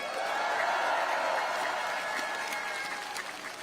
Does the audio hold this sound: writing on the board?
no